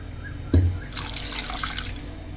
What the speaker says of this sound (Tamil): 1 கப்பு கீரைக்கு வந்து ஒரு 2 கப்பு தண்ணி ஊற்றிக்கோங்க.